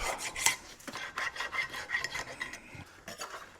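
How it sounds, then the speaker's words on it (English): A metal file rasps over rusty brake parts on a 2011 Chevy Tahoe, with repeated quick scraping strokes, fairly faint and close, with no talking. "I'm just gonna take a file and run it through here and see if any of that comes up."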